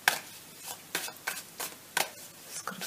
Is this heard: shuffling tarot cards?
yes